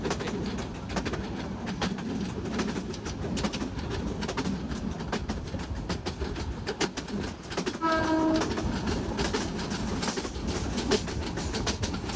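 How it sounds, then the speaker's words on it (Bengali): A Bijoy Express train runs at speed through open country, and its steady loud rumble and wheel clatter fill the whole stretch. A brief horn note sounds partway through. "দুর্দান্ত স্পিড নিয়ে আমাদের বিজয় এক্সপ্রেস ট্রেন"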